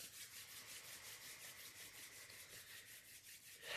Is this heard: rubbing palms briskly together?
yes